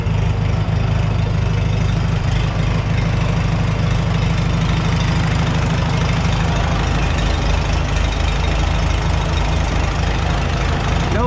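A Farmall H tractor engine idles steadily with a loud, continuous low rumble and knocking throb, running alone without talk.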